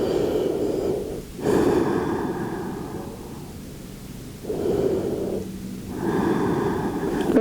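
Slow, deep yoga breaths come in long alternating inhales and exhales, close and soft with airy rushes rising and falling over several cycles, with no talking.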